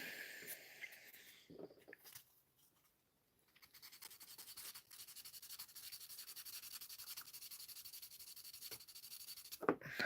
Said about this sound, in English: I might need to go for a little bit of a rougher piece of sandpaper just to kind of work my way down.